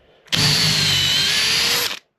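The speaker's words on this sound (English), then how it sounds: "I've got my trusty Makita." A Makita drill fitted with a hole saw bores through a piece of pine, giving one loud, steady high whine for about a second and a half with an abrupt start and stop.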